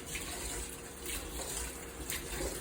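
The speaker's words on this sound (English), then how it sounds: "We're gonna use a rice cooker. So we have to wash the rice properly." Kitchen tap water runs steadily into a sink while rice is washed for a rice cooker, a close continuous splashing hiss with small surges and no talking.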